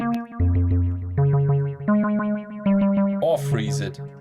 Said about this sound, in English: We can also reverse the reverb